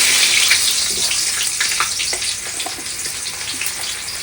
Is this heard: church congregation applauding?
no